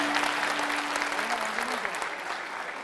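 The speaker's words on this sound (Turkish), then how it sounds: "büyük alkışlarınız, kuvvetli alkışlarınız" Steady applause from a crowd, dense clapping that fills the whole stretch at an even level, with a faint tone lingering underneath early on.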